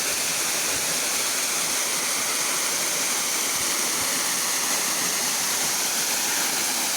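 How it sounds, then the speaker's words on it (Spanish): The Pinganón de Caideru waterfall in Asturias pours with a loud, constant hiss of clear falling water, a dense broadband roar that stays unbroken from start to finish. "Como baja aquí el agua cristalina, una pasada."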